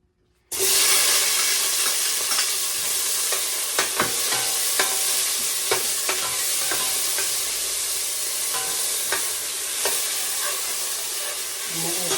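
Onion, tomato and garlic sautéing in a pan for a home-style gisa, a dense constant sizzle starting abruptly and holding loud and close for about twelve seconds, with frequent clicks and scrapes of a ladle stirring throughout.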